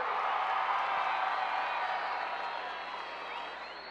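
A concert crowd applauds and cheers for a Cuban rumba group, a full, sustained roar of clapping that slowly tapers off, heard from a distance.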